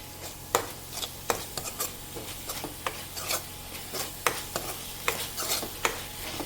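Spice paste with a spoonful of gram flour stirred and fried in a pan for a drumstick masala dish, with steady scraping strokes and soft sizzling throughout, close and fairly loud, no voices.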